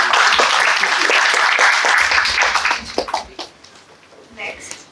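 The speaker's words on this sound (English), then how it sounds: "Can we have a huge round of applause for him," A crowd at a startup pitch event gives a presenter a loud round of applause that fades out over a few seconds, with a voice speaking as the clapping dies down.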